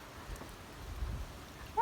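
Light rain falls during a rainy season near a house with a new roof, a faint, soft patter with a couple of low thumps, fairly steady, with a brief tone right at the end.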